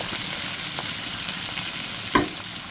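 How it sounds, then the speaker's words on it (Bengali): Tengra river fish, just flipped with a spatula, frying in a pan of oil: a steady, close sizzle throughout with a single sharp clink of the utensil near the end. "আর এখন আমার মাছটা উল্টানো হয়ে গেছে, ভাজা হতে থাক।"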